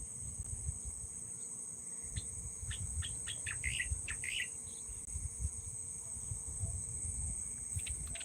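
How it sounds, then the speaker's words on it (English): Small birds chirp in quick bursts over a steady, shrill drone of insects, with a low rumbling background throughout. "Can you guys hear the bird chirping?"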